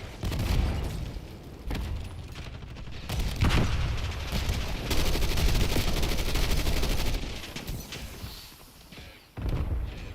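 Dense video game gunfire during a first-person shooter match, bursts of rapid automatic shots and booms layered continuously across the whole stretch, loud and close with brief lulls.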